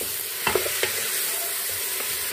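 Beef sizzles in a hot pan with garlic-ginger paste while a spoon stirs it, bringing a steady close frying hiss and a few sharp scraping clicks.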